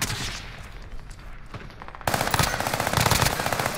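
Gunfire in the video game Call of Duty: Modern Warfare: scattered shots at first, then a loud, close burst of rapid automatic fire in quick repeated cracks.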